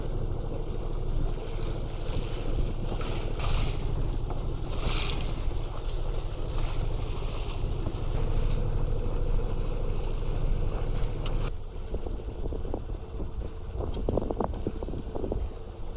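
Sailboat approaching a Scottish anchorage in strong wind, with steady gusting wind roar buffeting the microphone over water and hull wash, continuous and fairly loud, easing slightly near the end; no voices.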